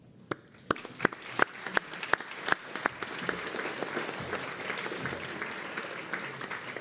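An audience at an evening science debate applauds moderator Kevin Page: a few loud, sharp separate claps open, then build quickly into steady, full applause from the crowd.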